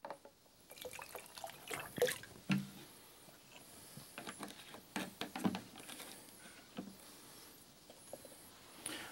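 Seawater is poured into a Korean Natural Farming IMO 4 mix, giving quiet irregular trickles and drips with scattered small clicks.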